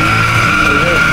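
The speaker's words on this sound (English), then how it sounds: "No work truck just casually doing rolling burnout." Ford F150 work truck doing a rolling burnout on a street in Mexico, a loud, sustained tire squeal with steady high tones over engine rumble, lasting about a second.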